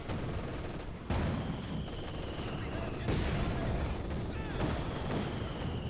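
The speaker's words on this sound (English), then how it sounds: "Here's the German mortar just counters it with a counter barrage ability" German mortar counter-barrage in Company of Heroes 2: a dense battlefield wash of distant artillery thuds and crackling gunfire, with sharp louder impacts near the start and middle, while someone talks throughout.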